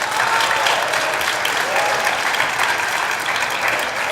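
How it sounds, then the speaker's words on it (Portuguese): A church audience claps steadily and loudly for several seconds, a dense, continuous wash of many hands with no pause or voices rising above it. "se é para aplaudir, aplaude direito"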